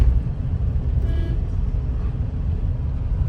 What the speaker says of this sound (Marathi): समोरनं गाड्या मात्र भरपूर येत आहेत गोव्याच्या दिशेने